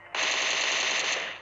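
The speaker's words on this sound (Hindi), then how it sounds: "अब सामने वाली सभी जगह से आ रहा था फायर" Sustained automatic gunfire in a battle royale game tournament match, a dense unbroken burst of rapid shots lasting over a second, loud and close with no talking.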